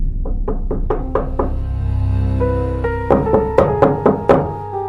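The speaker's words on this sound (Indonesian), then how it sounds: "Ketukan itu datang lagi, pelan, lalu semakin keras." Knocks on a door for a horror story, a series of loud resonant thuds that begin slow and then come harder and faster, layered over an eerie sustained tone.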